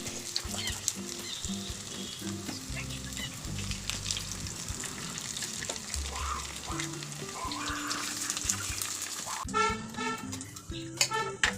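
Cauliflower fritters frying in hot oil, a steady dense sizzle and crackle throughout, close and continuous, with occasional clinks and a burst of sharper spattering near the end.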